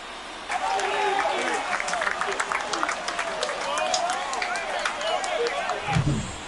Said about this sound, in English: This crowd is on fire right now. They're going nuts thanks to that home run.